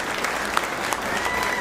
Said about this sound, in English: One more round of applause for Chrissy Lynn